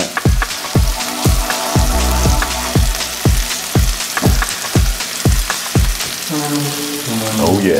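Butter sizzling on a griddle as Texas toast fries, a steady close crackle over a regular pulsing low thump that changes near the end.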